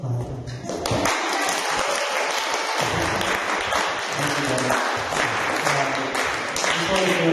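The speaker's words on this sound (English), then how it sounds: "Did you want to clap? You can clap." Applause fills a student senate meeting at ASUC, a dense, steady patter of many hands that holds for several seconds, with voices talking through and over the clapping.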